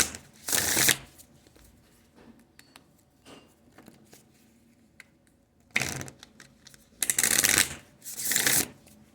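A deck of tarot cards being shuffled by hand: bursts of crisp riffling in separate spells, one near the start and several toward the end, with quiet handling and soft taps in between and no talk.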